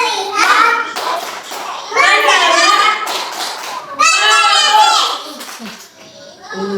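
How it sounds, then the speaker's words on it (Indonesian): Young children in an Indonesian classroom clap in short rhythmic bursts as they chant loudly together, and their voices dominate over the quick, close hand claps. "Tepuk bagus."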